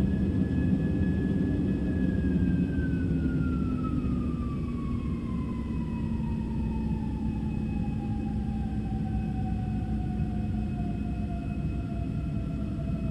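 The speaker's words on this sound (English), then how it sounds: "you hear the engines start to spool down and sounds like they're starting to stop working" A jet airliner's engines spool down as takeoff thrust is reduced during the climb. Heard from inside the cabin, a steady broadband roar carries a whining tone that slowly falls in pitch over several seconds.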